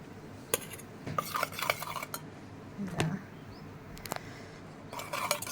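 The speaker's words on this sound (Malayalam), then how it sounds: "ഇനി നമുക്ക് തൈരും കൂടി ഒന്ന് മിക്സ് ചെയ്യാം" A spoon scrapes and clinks against a bowl while coffee powder and curd are stirred together, giving irregular close taps and scraping strokes with quiet pauses between them.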